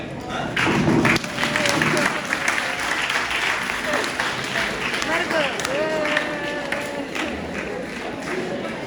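An audience applauds during a university talk on artificial intelligence in higher education, a dense stretch of clapping with some thumps and murmuring from the crowd, fairly loud throughout with voices mixed in.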